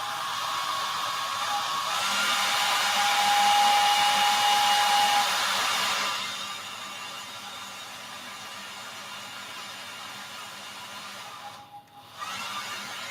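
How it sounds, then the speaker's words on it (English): A hair dryer blows steadily to dry paint, a loud broadband whoosh that runs for several seconds, then drops to a quieter hum before cutting off near the end. "So I'm just going to hairdryer this just quickly."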